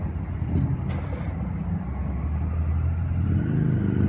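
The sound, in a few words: street traffic heard from inside a Starbucks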